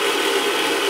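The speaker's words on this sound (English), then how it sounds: "This knob will set the wind speed" Wind speed knob turned on an early air navigation instrument with a ball-and-roller mechanism, a brief continuous close mechanical whirring with no voices.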